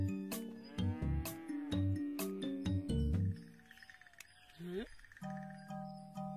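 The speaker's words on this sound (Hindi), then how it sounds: "भैंस को कभी देखा नहीं क्या?" A buffalo moos in a Hindi comedy film scene, deep drawn-out lowing calls close by, with another voice sounding at times and a sustained low call near the end.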